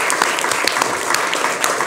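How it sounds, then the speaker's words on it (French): An audience applauds a television production crew on a French talk show, a steady patter of many hands clapping that fills the whole short stretch without a break. "on peut les applaudir bien fort."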